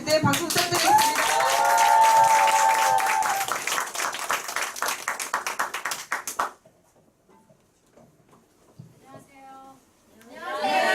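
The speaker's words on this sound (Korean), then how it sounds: "앞으로 나오실 때 박수 부탁드리겠습니다" Clapping from a small group at a Korean business group meeting as a first-time attendee comes forward, steady and near for about six seconds before it stops; brief talk follows.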